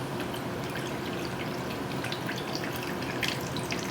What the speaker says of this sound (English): I'm going to lift one little corner here and end with a little braising liquid we got.